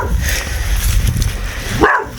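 A puppy barks angrily, close and loud, in a short burst of barks ending in a rising yelp.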